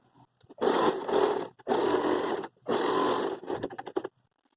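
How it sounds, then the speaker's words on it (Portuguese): A sewing machine stitches fabric with bias binding in three long whirring runs separated by short pauses, then a few quick stuttering bursts, close and clear. "Vou dobrar agora o tecido para esse lado e vou descer costurando a partir da quina"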